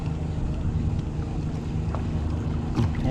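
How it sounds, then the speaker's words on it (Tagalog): Choppy sea waves splash and break against the hull of a small fishing boat, a constant rushing wash with wind noise across the microphone, close and fairly loud. "dito nababasag yung alon eh"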